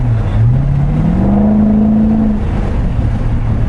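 A Corvette C6 Grand Sport with open exhaust revs up, its engine note climbing in a rising drone that peaks and then falls away over a steady road rumble, with no voices.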